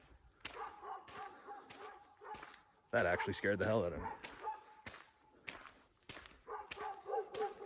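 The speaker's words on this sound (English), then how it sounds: "Those are dogs, thank God." Dogs bark in bursts during an outdoor walk, with a loud, sudden cluster of barks close by in the middle, while a person keeps talking throughout.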